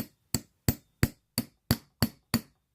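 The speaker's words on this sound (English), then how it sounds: "But I'm using a tack hammer up here" A small tack hammer taps on a vintage Yale padlock, striking eight sharp metallic blows in an even, steady rhythm, close up and clear, with silence between the strikes.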